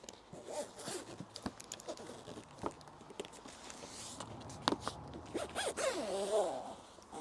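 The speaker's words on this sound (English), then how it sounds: "Zip that back up so it doesn't get trashed." Zip being pulled closed on a Tow Pro Elite fabric towing cover, a few quick rasping runs amid light rustling and handling noises, close and moderately quiet.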